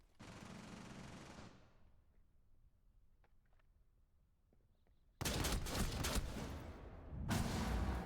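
Gunfire in the video game Rainbow Six Siege: a loud burst of rapid automatic fire for about a second and a half, a quiet stretch with faint clicks, then heavy sustained firing that breaks briefly and resumes.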